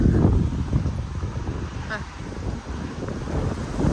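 Strong, dry wind gusts buffet the microphone in a continuous low rumble that swells and eases, with a voice talking faintly underneath.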